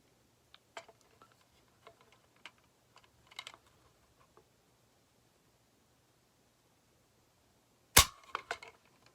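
Light mechanical clicks of a Marlin 39A .22 lever-action rifle trigger being dry-fired against a pull gauge, scattered faint ticks followed by one sharp, close snap near the end with a short rattle after.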